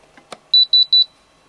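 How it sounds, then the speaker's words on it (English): Three short, high electronic beeps in quick succession from a Spektrum DX6i radio control transmitter, loud and clean, following a couple of faint clicks. "scroll once and you get three beeps"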